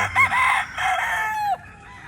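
Gamefowl rooster crowing once nearby, a loud drawn-out call that ends with a falling tail, followed by a quieter background.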